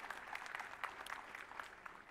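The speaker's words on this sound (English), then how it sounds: "let's have a louder round of applause" An audience at a company silver jubilee celebration gives a round of applause, a continuous patter of distant, moderately faint clapping throughout.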